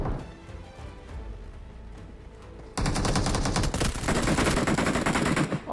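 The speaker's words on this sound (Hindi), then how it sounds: "और ये दिया मैंने वेक्टर का प्री फायर" A Vector submachine gun fires in the battle royale video game BGMI, with a sudden loud, rapid automatic burst that follows quieter game ambience with a few scattered shots, and no voices.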